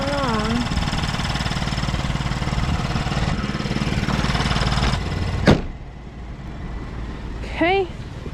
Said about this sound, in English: starting with the engine. Looks normal. Sounds like it's chugging along.